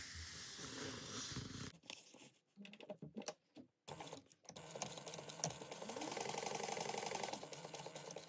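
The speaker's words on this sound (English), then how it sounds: "So we're going to sew down right on top of those 2 lines." A sewing machine stitches down a fold of fabric, running in a quiet, close mechanical whir that stops and starts through a few short pauses before settling into a steady run.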